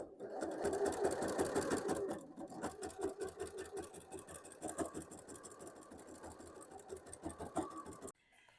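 A sewing machine stitches folded binding down onto a fabric pouch, running steadily with a rapid needle rhythm for about eight seconds before stopping abruptly.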